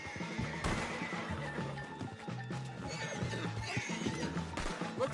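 Horses in a Red Dead Redemption game scene whinny and neigh amid clip-clopping hooves and busy background action, several loud calls spread across the stretch with no talk.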